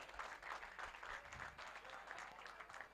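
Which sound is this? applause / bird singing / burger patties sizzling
applause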